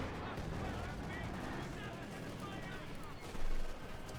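Mortar and gunfire in Company of Heroes 2, a dense, continuous wall of battle noise with a louder burst near the end, blended under game commentary.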